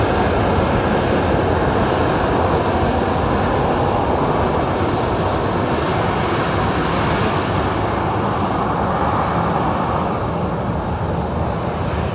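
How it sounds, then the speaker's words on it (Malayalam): An Oman Air airplane lands at Calicut airport, its engines producing a loud, steady roar that fills the whole stretch without a break and with no voices. "ഫ്ലൈറ്റ് കാണും ലാൻഡായിട്ട്"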